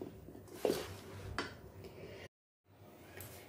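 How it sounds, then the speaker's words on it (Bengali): A spoon stirs puffed rice through melted jaggery in a pot taken off the gas, giving a few soft scrapes and two brief metallic clinks, fairly faint and close, followed by a short silent gap. "এবার এখানে খুব ভালো করে মুড়িগুলো মিশিয়ে নিচ্ছি।"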